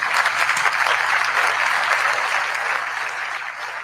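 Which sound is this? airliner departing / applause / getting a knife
applause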